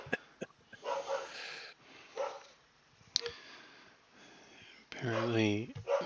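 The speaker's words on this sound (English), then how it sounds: "Apparently, the dog's decided to bark at something random." A dog barks at something indoors, a few sharp barks heard at a distance under quiet speech, ending with a louder, closer burst at the very end.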